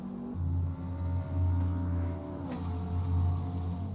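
A McLaren GT race car on a qualifying lap at the Italian Grand Prix round of a GT World Challenge series, its engine droning loud and steady with a brief dip and pitch shift midway, no talk over it.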